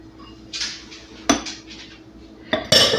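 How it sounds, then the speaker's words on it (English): A metal fork scrapes and clinks against a bowl while mixing flour, salt, butter, yeast, milk and an egg into dinner roll dough by hand, producing a few irregular close taps and scrapes with no talking. "I just take a nice big fork and I go in and I mix it all together until it comes together"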